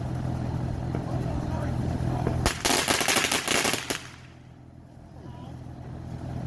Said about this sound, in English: Oh, firecrackers? Yeah, 200 of them.